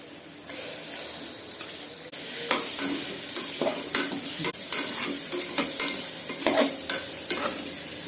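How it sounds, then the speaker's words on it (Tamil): Beans, carrots and fresh peas sautéing in a pan for wheat rava khichdi, a loud continuous sizzle broken by repeated scraping stirs and clacks of the spoon, no voices. "இப்போ பீன்ஸு கேரட்டு போடுறோம் கூட பட்டாணி போடுறோம்"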